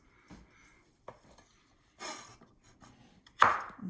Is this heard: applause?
no